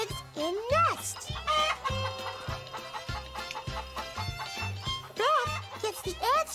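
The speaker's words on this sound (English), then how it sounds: "Inside the chicken coop, the chickens lay their eggs in nests." Chickens cluck and squawk inside a farm chicken coop, repeated bursts over a bouncy musical backing in a children's program.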